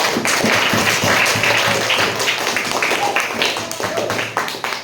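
Classroom applause from students, distinct individual claps with a clear rhythm, close and fairly loud, gradually thinning out toward the end.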